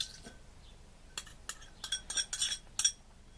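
A utensil clinks and scrapes in a small dish while sugar is stirred into honey for a lip mask, a run of quick light taps growing busier, close and quiet, with no talking.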